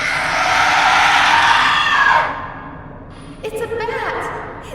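A sharp, ear-piercing shriek rings out loud for about two seconds and then fades, followed by fainter squeaky cries in a spooky Halloween story scene.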